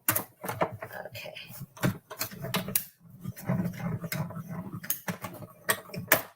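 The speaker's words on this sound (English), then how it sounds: "it often makes a little creaking noise, but that's totally normal" Soft creaking and mechanical clicking from a paper rolling machine, uneven and intermittent, with faint rustling throughout.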